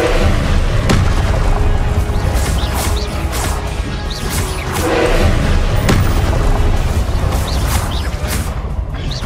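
Spell combat in Hogwarts Legacy with the Incendio fire spell, a loud, continuous barrage of booming blasts, crashes and whooshing impacts at close range.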